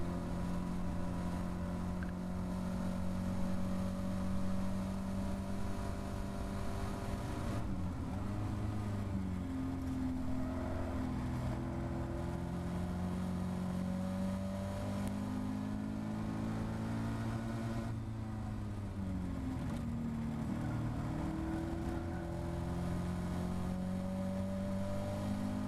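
A Caterham Academy race car engine in an autumn trophy race, steady and loud, with the pitch rising and dropping repeatedly through gear changes and corners over a continuous drone.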